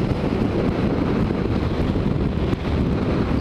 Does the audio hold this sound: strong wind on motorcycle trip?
yes